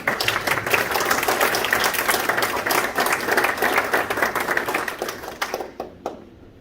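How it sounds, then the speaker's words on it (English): An audience at an aerospace society talk on planetary defense from asteroids and comets gives a steady round of applause, dense and even throughout, thinning out into a few last claps near the end. "let's give them a little round of applause"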